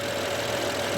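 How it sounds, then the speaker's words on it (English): An F8x BMW M4 engine idling with loud injectors, a dense, even mechanical rattle and ticking over a steady hum, close and continuous with no voices. "The injectors are quite loud and they do tend to be a little bit aggressive when idling."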